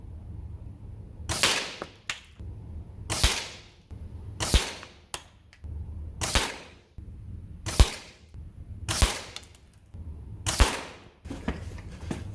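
A Reximex Mito S air pistol fires rested shots at a target ten metres away. Seven sharp, close cracks ring out one at a time, spaced roughly one and a half seconds apart, with quiet between each report.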